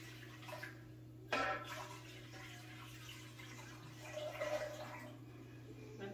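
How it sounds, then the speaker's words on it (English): Water running from a tap into a pressure canner, a steady splashing stream with a rising rush partway through, heard close beneath a constant low hum. "So what I've got is just some water here. I'm going to fill it."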